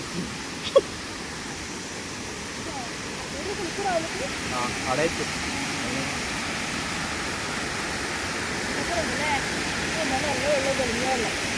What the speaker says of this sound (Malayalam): നമുക്ക് വെള്ളച്ചാട്ടം കാണാം സൗണ്ട് വെക്കുന്നുണ്ട്